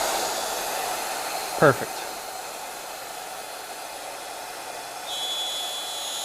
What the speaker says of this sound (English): I'm gonna go ahead and switch the vacuum on, and Sean might be able to talk over me while I do this cut because it'll be a little loud on this end.